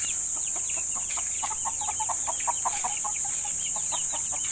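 A crowd of Kelso-breed chicks peeps constantly, with rapid overlapping chirps close by over a steady high background hiss and no talking.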